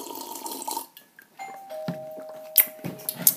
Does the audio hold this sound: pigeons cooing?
no